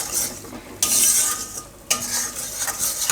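Cashew pieces with slivered pistachios and almonds roasting in ghee in a pan, a steady close sizzle with two sharp surges as the nuts are stirred and scraped, no voices.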